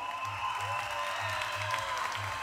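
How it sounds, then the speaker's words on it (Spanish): An audience at the opening of a girls' academy show in 2014 applauds, a continuous hiss-like spread of clapping. Steady tones and a pulsing low hum sound underneath throughout. "Un fuerte aplauso para ustedes y todas las niñas que están allá adentro"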